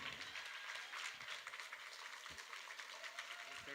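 At a happiness summit, an audience claps continuously as a speaker is welcomed to the stage, a steady, fairly quiet wash of hand claps with some crowd noise mixed in.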